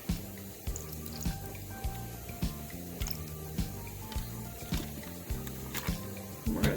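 Water is added to a rock tumbler barrel holding white quartz, heard as drips and splashes over a rhythmic, repeating low rumble and clunk of the machine, about once per second.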